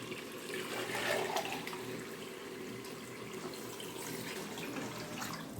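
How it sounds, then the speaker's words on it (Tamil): Water is poured into a pressure cooker of nearly cooked mutton for Dindigul-style biryani, a steady splashing gush at close range that lasts the whole stretch, slightly stronger near the start. "இப்போ வந்து நம்ம தண்ணி ஆட் பண்ணிக்கலாம்."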